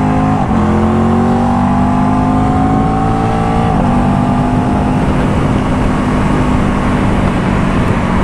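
Aprilia RS660 motorcycle engine revving and pulling through gears while riding on a Saturday morning, a loud steady drone with rising and falling pitch sweeps throughout, no talking.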